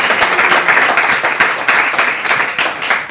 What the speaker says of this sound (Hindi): पूरी टीम के लिए तालियाँ।